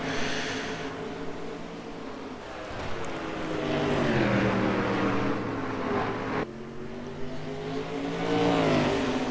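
Stock cars race on a half-mile oval, Race City Speedway, in a racing game, with a pack of engines droning and rising in pitch over several seconds and continuing steadily throughout.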